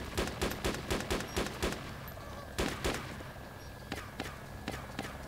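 Gunshots crack in DayZ as a fast string of sharp shots in quick succession. A few more shots follow after a short gap, fairly distant, with voices faintly underneath.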